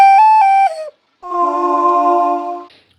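A handmade ceramic clay whistle is blown twice, first a short wavering pitch that steps up and back down, then after a brief pause a longer steady breathy tone, loud and close with no talking.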